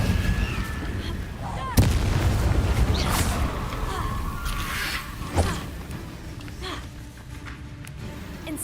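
The Incendio fire spell is cast in Hogwarts Legacy, a roaring burst of game combat noise with a sharp booming impact near the start, another thud midway, and a rumbling, crackling fiery wash throughout.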